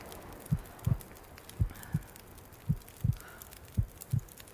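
A slow, steady heartbeat in The Long Dark thumps in paired lub-dub beats, about eight deep low pulses evenly spaced over a quiet background with no voices.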